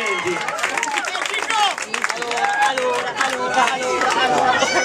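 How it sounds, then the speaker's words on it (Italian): A crowd applauds at a live Dominican Power show, with scattered clapping mixed into loud, busy crowd chatter and voices throughout. "applauso per la scacchiera di Chiquito"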